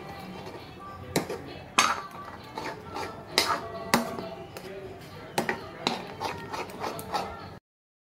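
A spoon clinks and scrapes against a pot while Gujarati kadhi is stirred with coriander added, irregular metallic taps and knocks, moderately close, with some quiet speech.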